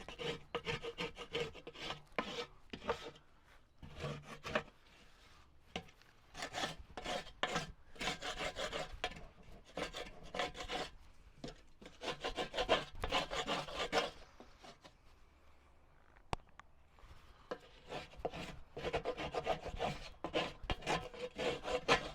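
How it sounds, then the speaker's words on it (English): A wooden spoon scrapes leftover food off the heat deflector plate of a Pit Boss 1150 pellet smoker, giving repeated rasping, rubbing strokes in an irregular rhythm, close and moderately loud, with no talking. "Scrape it with your wooden spoon."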